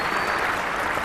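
Steady, close applause from a crowd at a cricket match, a dense wash of clapping at even loudness throughout a short burst with no voices above it.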